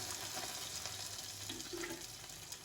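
Eggs from free-range country chickens frying in a pan, a steady close sizzle and crackle with small bursts of spitting throughout, no voices.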